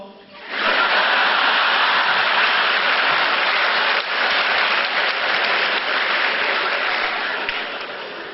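A large stand-up comedy audience of about 1,800 people roars with cheers and applause, a loud sustained wash of noise lasting several seconds before gradually easing off.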